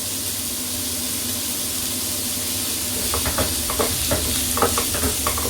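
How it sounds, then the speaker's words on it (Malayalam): Onions sautéing with salt in a pan, a steady close hiss and sizzle that picks up a series of stirring scrapes in its second half, with no talk. "സവാള ഒന്ന് വഴണ്ടി വരട്ടെ."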